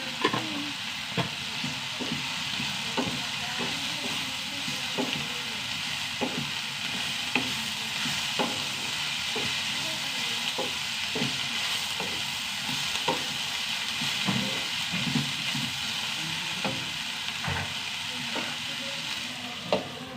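Food dry roasting in a pan with fenugreek seeds, salt and turmeric, giving a steady close sizzle broken by regular scraping knocks of a spoon stirring every second or so, with no voices.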